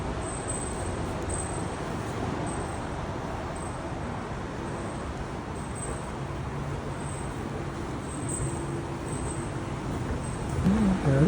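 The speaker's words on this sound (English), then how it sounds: "This is the very cool bus that kind of rides on a track." A guided bus running on an overhead track in Japan, heard as a steady, broad rumble of motor and road noise, growing slightly louder near the end with a brief voice-like sound.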